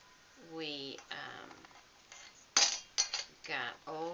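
Butter is worked into scone dough with a metal utensil, giving a few sharp clinks and scrapes against the bowl between stretches of a person talking.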